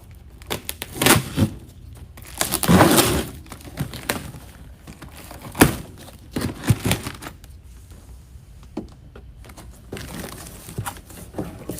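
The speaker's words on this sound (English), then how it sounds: "Always use a giant knife. It makes you feel better when you cut open the box." A large knife slicing open a cardboard box, giving scattered scraping, tearing and thumping bursts close by, irregular and uneven across the whole stretch with short quiet gaps between strokes.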